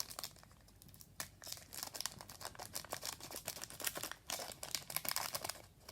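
A Pokémon booster pack wrapper being opened, heard up close as continuous crinkling and crackling of foil plastic with quick tearing bursts, steady and faint, with no voices.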